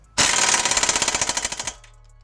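Impact wrench driving a roughly 100 ft-lb bolt on a Hyundai Veloster coilover: one loud burst of rapid hammering rattles, about one and a half seconds long, stopping abruptly, close by with no talking.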